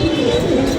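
Pigeons coo briefly in a short, low burble outdoors on an evening with a cool breeze, under a steady wash of wind noise.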